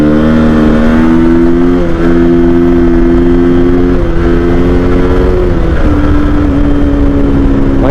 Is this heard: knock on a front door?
no